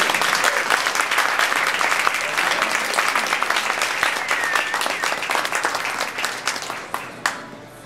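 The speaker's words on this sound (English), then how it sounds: "a big round of applause for Carl's Cappuccino." An audience at a 2005 regional barista championship gives a sustained round of applause, dense and loud at first, then thinning into scattered claps before fading out.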